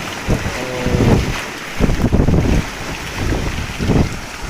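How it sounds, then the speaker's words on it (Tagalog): Strong wind over Laguna Lake buffets the microphone in loud gusts, with waves and water lapping underneath. "Ang lakas ng hangin"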